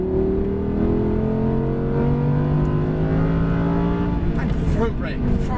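An Audi R8 V10 accelerates hard at full throttle on a racetrack, its engine note climbing steadily and loudly from close inside the cabin while an instructor talks over it.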